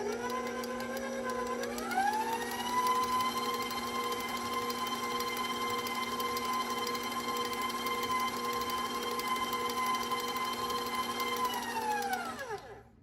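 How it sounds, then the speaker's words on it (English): An electric mixer whirs continuously while blending whoopie pie batter, its motor pitch rising after the first couple of seconds then holding a steady hum before spinning down at the end, close and alone. "I'm going to put my mixer on for a little longer to incorporate the ingredients I scraped down"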